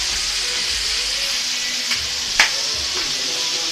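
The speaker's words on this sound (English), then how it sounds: "It's me frying chicken." Chicken frying in a pan gives a steady, close, broadband sizzle throughout, with a couple of sharp spitting pops near the middle.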